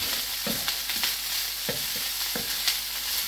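Cooked rice being stir-fried in a hot pan as fried rice, with a steady background sizzle and intermittent scraping stirs of the spatula, close and moderately loud, no talking.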